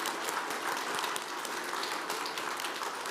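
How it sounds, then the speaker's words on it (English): Audience applauding at a city council meeting, steady dense clapping from a crowd in a hall, moderately loud and continuous without talk. "Come on, let's clap a little bit."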